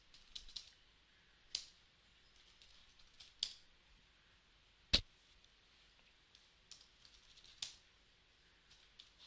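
A computer keyboard is tapped as a command is entered, giving sparse crisp key clicks in irregular bursts with one sharper keystroke midway, close and quiet with no talking.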